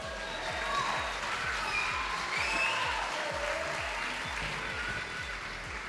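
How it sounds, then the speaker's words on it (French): At a CrossFit Open competition on Reunion Island, an audience claps for an athlete, a sustained crowd of hands over a thudding rhythmic beat of background music, with faint voices mixed in. "On peut l'applaudir ?"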